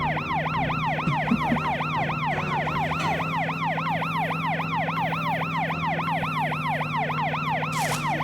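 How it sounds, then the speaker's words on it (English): A wailing electronic emergency siren from the Tonka Rescue Patrol video game sweeps up and down in a steady rapid cycle, loud and continuous throughout over a low engine hum, with no talking. "Press the B button to run the siren and clear the traffic."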